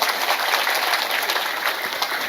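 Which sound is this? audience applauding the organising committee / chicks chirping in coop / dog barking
audience applauding the organising committee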